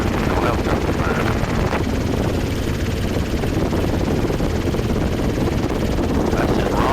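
Inside a Robinson R22 training helicopter in flight, the rotor and piston engine produce a steady, loud, dense drone that runs continuously without a break.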